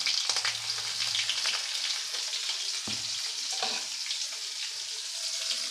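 Green chili and asafoetida sizzle steadily in hot oil in a pan while cooking orange peel pachadi, with bright continuous frying crackle and a few stirring scrapes close by.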